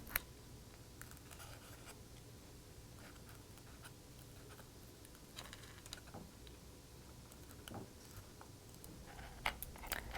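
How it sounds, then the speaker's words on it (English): A spudger scraping and prying cable adhesive off the upper case of a 13-inch unibody MacBook Pro, faint close scratchy scrapes and small clicks at irregular intervals over a quiet background. "I'm going to use my spudger to gently loosen the adhesive."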